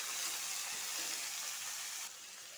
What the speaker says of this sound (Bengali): এটা এখন একটু তেলের সাথে ভালো করে ভেজে নিব।